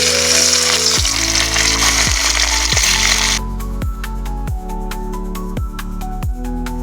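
Fish fries in hot oil in a kadai wok with a loud, dense hiss for a few seconds, then the sizzle fades under a repeating melodic music track.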